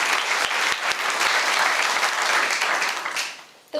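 A graduation ceremony crowd breaks into a round of applause, dense clapping that holds steady for a few seconds and then fades out at the end.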